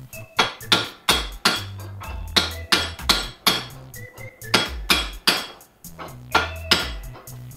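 About a dozen sharp metallic hammer blows in a steady, close rhythm, each strike ringing briefly before the next, as parts are hammered onto a two-stroke engine crankshaft; no talking.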